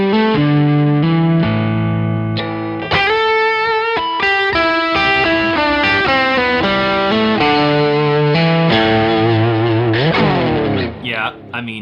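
Electric guitar through a Neural DSP plugin with delay, playing a melodic run of sustained, echoing notes at a loud, close level, ending in a bending flourish, with no talking over the playing.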